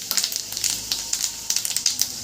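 A spoonful of panch phoron spices frying in hot oil, rapid irregular crackles and pops over a light sizzle, close and fairly loud.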